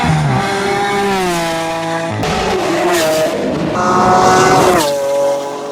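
Lamborghini Aventador V12 supercar engine revving hard through rising and falling gear pulls, loud and close with a high harmonic scream and no talk.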